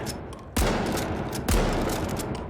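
A new heavy-class weapon in The Finals fires two loud, booming shots about a second apart, each with a sharp onset and a long ringing tail, close and with no talking.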